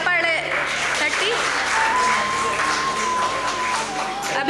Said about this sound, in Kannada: ಎಲ್ಲರೂ ಚಪ್ಪಾಳೆ ತಟ್ಟಿ